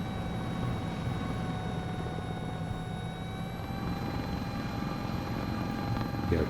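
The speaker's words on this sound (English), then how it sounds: "We are pushing the helicopter pretty hard." Steady, loud rotor and turbine drone of a CowanSim S76 helicopter in Microsoft Flight Simulator 2024, pushed hard at power with a constant whine over a thick low rumble throughout, no talk.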